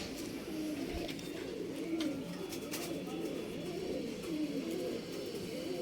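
Racing homer pigeons coo in soft, rolling low phrases, continuous and close, with faint background noise and no talk.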